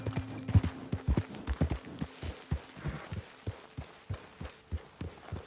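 Horse hooves clip-clop at a steady walking rhythm in Red Dead Redemption 2, close and fairly clear, each strike a distinct thud slowing toward arrival at a camp, with a faint background hum.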